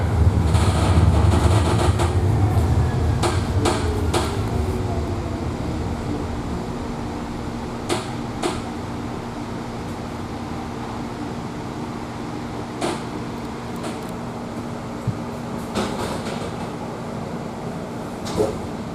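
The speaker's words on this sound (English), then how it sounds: "The doors are closing. Train departing." A light rail train's steady low rumble and hum as it pulls away from a Portland station stop, with occasional sharp clanks and rattles from the cars.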